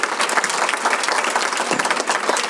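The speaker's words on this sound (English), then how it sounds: "give Tricia a round of applause as moderator" Audience applause for a moderator at a women in business conference, a steady dense wash of clapping from a crowd that holds throughout without talk.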